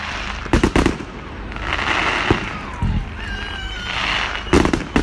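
Fireworks display bangs at a Manor Fields bonfire-night event: several loud, sharp booms in quick clusters near the start and end, with crackling and whistling rockets trailing between them.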